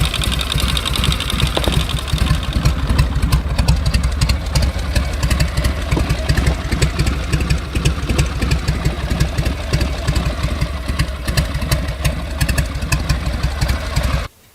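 A 1981 Harley Davidson Road King with a dry clutch idles loud and close, its lumpy, rapid pulsing beat steady throughout with a clattering mechanical rattle layered on top, then cutting off abruptly at the end.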